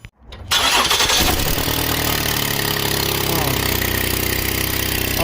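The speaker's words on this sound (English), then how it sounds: "gonna start it up. See if it's leaking up here." A 2019 Chevrolet Traverse 3.6L engine cranks briefly and catches, then settles into a loud, steady idle close by, with a raspy exhaust from a broken pipe.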